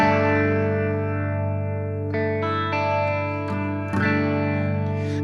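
An electric Telecaster-style guitar runs through the rotary effect of a BOSS GT-1000, sustaining chords with slight swirling modulation and a few new strums, loud and close with no talking.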